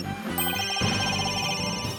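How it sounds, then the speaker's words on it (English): A cell phone ringtone in Phoenix Wright: Ace Attorney - Dual Destinies plays as a steady, repeating electronic melody, loud and continuous over game music for about two seconds. "Where's that ringing coming from?"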